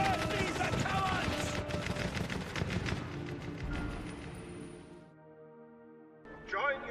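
Gunfire in a World War II film battle between Nazi German and Russian troops, a dense burst of loud shots and blasts over music for about five seconds, then a quieter tonal stretch and a brief loud burst at the end.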